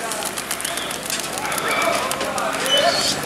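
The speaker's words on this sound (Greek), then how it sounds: "Ξεκινήσανε πουλιά." Racing pigeons released from a loft at a pigeon club in Drapetsona, with flapping wings and scattered coos against outdoor background noise, while someone speaks over the takeoff.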